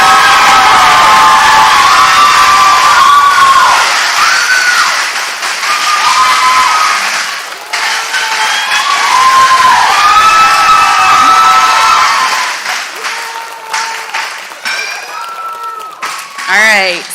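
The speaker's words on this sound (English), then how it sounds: "I would like for everyone to give Miss Blackman a round of applause" Graduation crowd cheering and clapping loudly, with shrill whoops and shouted calls rising over dense applause, swelling and easing in waves before tapering off.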